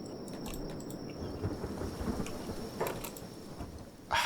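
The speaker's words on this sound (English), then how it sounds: "The rain is fine." Rain and thunder in the video game Kenshi form a low, steady rumble with patter, overlaid by a few brief clicks and game effects. No one speaks.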